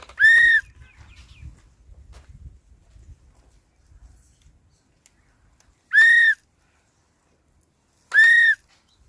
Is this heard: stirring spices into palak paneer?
no